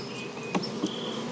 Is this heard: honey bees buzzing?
yes